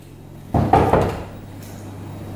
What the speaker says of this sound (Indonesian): Nadia Amara, kamu gak buka pintu Bapak gedor loh